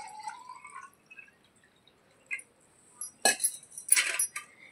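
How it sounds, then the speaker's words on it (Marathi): Water is poured into a small copper pot prepared for a puja, heard as a few short splashes and trickles near the end after quiet handling clinks. "आता यामध्ये पाणी टाकायचं आहे"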